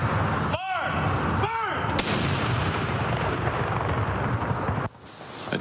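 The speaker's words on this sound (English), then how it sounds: "A 21-gun salute marked the end of 2 minutes of silence in honor of fallen soldiers." A 21-gun salute of blank artillery rounds at a memorial outside the Alberta legislature: heavy, booming shots one after another outdoors, each rolling and echoing over a steady background rumble.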